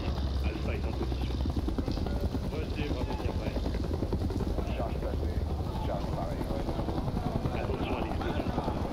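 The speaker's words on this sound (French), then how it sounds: "L'ennemi active un hélicoptère d'attaque." An attack helicopter in the video game Modern Warfare 3 thumps its rotor steadily and loudly in a dense, constant drone that never lets up, close and heavy with low rumble.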